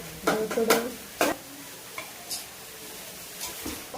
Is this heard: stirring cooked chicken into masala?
yes